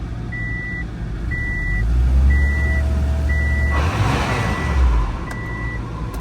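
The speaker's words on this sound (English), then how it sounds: "This thing's gonna keep beeping at me" A repeating electronic warning beep sounds about once a second from a Subaru Forester with 240,000 miles and a freshly installed engine, over a loud low engine rumble that swells as the revs climb midway.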